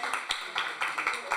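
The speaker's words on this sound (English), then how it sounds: "let's have a round of applause" A small audience at the Aberfeldy Stories book launch gives a short round of applause, steady close clapping with voices talking over it.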